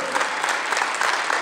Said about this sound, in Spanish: Fuerte aplauso al Señor Jesús